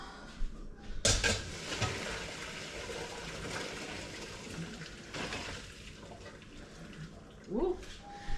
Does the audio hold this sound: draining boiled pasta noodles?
yes